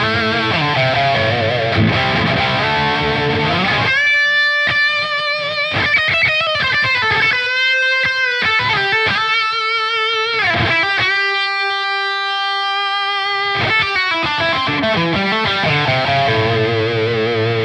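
A 1956 Les Paul reissue electric guitar with P90 pickups played through a boutique high-gain amp model on its highest gain setting, giving saturated distorted chords and sustained single notes with pauses, loud and alone.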